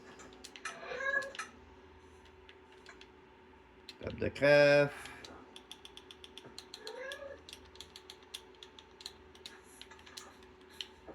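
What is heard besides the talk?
cat meowing in the video game Minecraft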